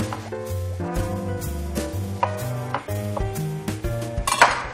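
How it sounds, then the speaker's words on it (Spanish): A tomato is cut into quarters with a knife on a cutting board, giving several sharp, irregular taps and knocks close by over steady background music. "Lo vamos a cortar en cuartos."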